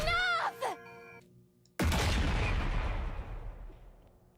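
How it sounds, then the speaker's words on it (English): A loud, close explosion in The Hundred Line: Last Defense Academy bursts suddenly after a brief voice and tone, then rumbles and decays over a couple of seconds. "Another explosion."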